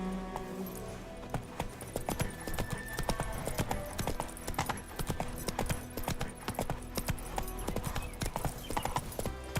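Horse galloping in the video game Witcher 3: Wild Hunt, a fast, steady clip-clop of hooves, loud and close, running continuously with a faint snort near the start.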